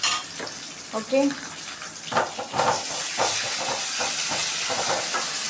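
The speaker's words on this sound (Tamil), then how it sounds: "இஞ்சி பூண்டு பேஸ்ட் இருக்கு இல்லையா, ஸோ அதை வந்து நம்ம போட்டுக்கலாம்." Ginger garlic paste hits hot oil in a pan for Tamil chicken curry, throwing up a loud, continuous sizzle and hiss with crackling spurts. A voice speaks briefly over it near the start.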